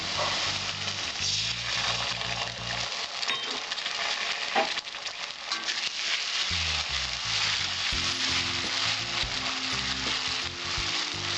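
Browned onion frying with garlic and ginger paste in oil for a restaurant-style pomfret fish curry, a continuous close sizzle broken by spatula stirs and scrapes, with no talking.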